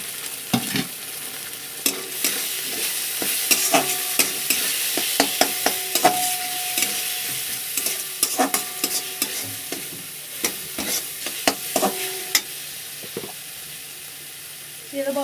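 Onion fries with ginger garlic paste and green chilli in a pan, sizzling steadily while a spoon scrapes and clatters in repeated sharp stirring strokes, close and fairly loud.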